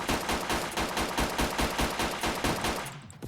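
Rapid automatic gunfire in the online shooter Wolfteam, a dense, steady stream of close, loud shots lasting several seconds before cutting off abruptly.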